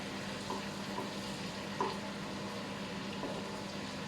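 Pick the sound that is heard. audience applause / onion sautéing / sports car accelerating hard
onion sautéing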